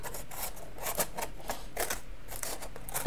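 Scissors cutting out paper hearts, with a quick series of crisp, close snips and rustles in an uneven rhythm over a soft background hiss.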